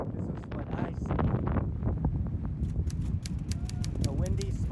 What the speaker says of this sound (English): A windy spot.